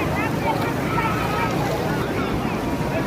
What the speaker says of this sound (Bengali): অনেক বড় ঢেউ, ঢেউয়ের মধ্যে স্পিডবোট ছেড়ে গেল